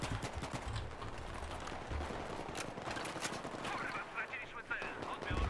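Gunfire in the video game Battlefield 3: bursts of sharp, clattering shots and close pops, rapid and irregular over a busy battle din, with a voice talking over parts of it.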